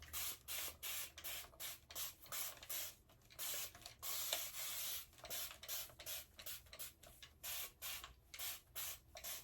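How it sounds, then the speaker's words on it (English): Repeated quick hissing bursts of a spray bottle misting water onto hair, about twenty close, loud spritzes in a steady rhythm with short gaps between them and no talking. "I'm gonna just like spray it with like water to see how it's gonna look"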